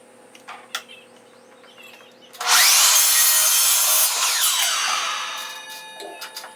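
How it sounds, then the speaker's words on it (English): A power miter saw bites into wooden crown molding for a 22.5 degree cut, a loud sustained whine and rasp of about two and a half seconds that starts abruptly after quiet handling noises and tapers off as the blade spins down. "We're just going to check and make sure we're on our mark before we make the cut"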